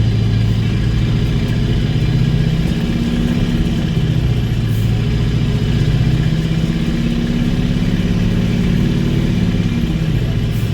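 A CAT diesel engine in a truck with a two-speed axle revs, a loud, continuous low rumble with steady mechanical clatter, heard close and alone.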